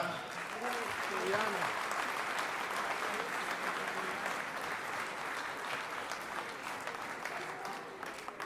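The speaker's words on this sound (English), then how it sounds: "Round of applause for George Gala." Sustained applause from a gala award ceremony audience celebrating Greek Independence, steady and full for the whole stretch, with voices murmuring and talking faintly underneath.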